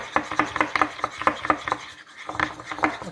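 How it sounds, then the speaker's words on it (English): A spoon scrapes vigorously around a hot bowl of melted white chocolate, making a steady run of rhythmic scraping and tapping strokes with a brief pause midway before the mixing resumes. "I'm gonna go ahead and take my spoon and then vigorously mix"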